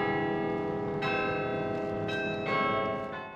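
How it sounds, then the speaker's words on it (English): Carillon bells in the Centre Block tower in Ottawa chiming, several struck notes ringing out one after another with long overlapping resonance, clear and alone with no talk. "The carillon will still chime each day, at least until 2022, when the bells go silent to be restored."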